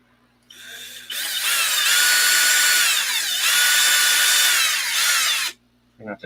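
A power drill bores into a puppet's finger, starting with a brief whir and then running steadily and loudly for about four seconds with a slight dip midway before cutting off.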